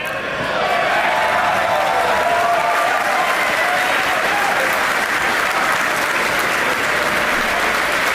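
A crowd of colleagues gathered at SpaceX's Hawthorne, California location cheers and applauds loudly and continuously, a dense wash of clapping with voices mixed in.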